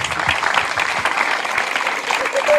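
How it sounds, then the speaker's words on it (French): Children applaud together at the end of a school-year project, giving a lively burst of dense, close clapping that carries on steadily throughout. "on peut les applaudir une dernière fois"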